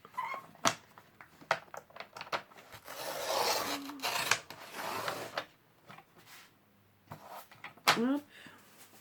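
A blade cuts through card in several short scraping and snipping strokes, close and fairly quiet, under intermittent talk.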